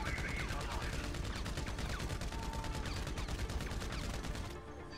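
Gunfire in a video game: dense, rapid automatic shots fire in a continuous rattling stream at steady loudness and cut off abruptly at the end.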